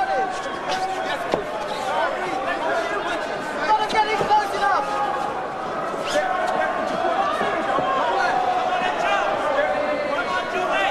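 A boxing arena crowd at Chris Eubank versus Joe Calzaghe in 1997, a dense, steady murmur of many voices with scattered bangs and shouts, close and loud throughout.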